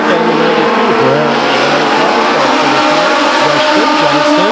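Legend race cars scream around Stockton 99 Speedway in a loud, continuous engine roar, with engine notes rising and falling as drivers shift and jostle for position.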